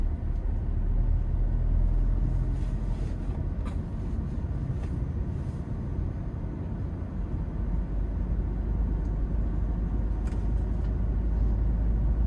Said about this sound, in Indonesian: angkat kopling tambah gas ini langsung gigi dua pun juga kuat guys